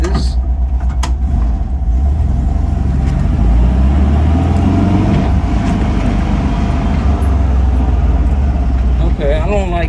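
A 1966 VW Split Bus with dual carburetors drives on a road test, its engine droning loudly and steadily with road rumble from inside the cab.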